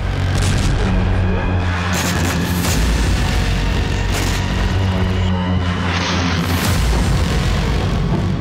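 Heavy booming blasts and rumbling detonations from drone strikes in Rostov, Russia, pound one after another, loud and dense, with sharp cracks mixed into the continuous roar.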